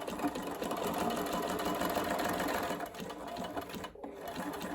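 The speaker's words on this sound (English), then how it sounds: "So again, overlocker or zigzag. Do back stitch with your zigzag here." A sewing machine runs a zigzag stitch along a fabric edge, a fast, even mechanical whirring and ticking that goes on almost without a break, with a brief pause near the end.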